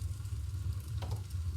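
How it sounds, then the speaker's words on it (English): Fire crackle sample from an online sound library, layered into a lo-fi beat: soft irregular crackling over a steady low bass hum from the track, with a brief brighter burst of pops midway. "I just looked up some fire sound effects on YouTube and then imported them into Logic"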